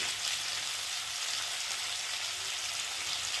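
Potato and vegetables frying with spices in a pan, giving a steady, faint, even sizzle with no talking.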